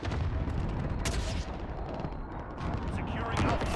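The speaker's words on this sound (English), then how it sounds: "Enemy precision airstrike." In Call of Duty Modern Warfare, an enemy precision airstrike comes down as a run of heavy booms and crackling blasts, fairly loud and rumbling, with a brief lull midway before more impacts roll in.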